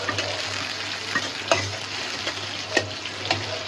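Prawns sizzle in hot oil with spice paste, a continuous moderate frying hiss marked by occasional sharp spatters and stirring scrapes, over a faint low hum with no speech.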